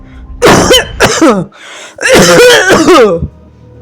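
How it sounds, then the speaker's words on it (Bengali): A coughing sound effect for a horror podcast: two loud, close bursts of harsh coughing and throat clearing, separated by a short pause. "হঠাৎ করে একটা কাশির আওয়াজ আমার পাশ থেকে আসে।"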